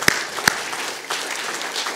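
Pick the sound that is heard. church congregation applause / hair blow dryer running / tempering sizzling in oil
church congregation applause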